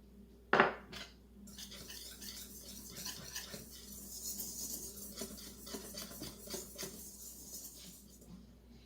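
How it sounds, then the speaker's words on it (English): A whisk scrapes and taps through dry flour, baking powder, baking soda and salt in a bowl, a faint scratchy rustling that runs on in quick uneven strokes after one sharp clink at the start. "whisk the flour, baking powder, baking soda,"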